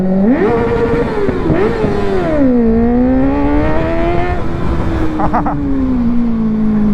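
A loud Kawasaki Ninja ZX-6R sport motorcycle engine revs up and down repeatedly, pitch rising and falling in strong sweeps, close by with no talking.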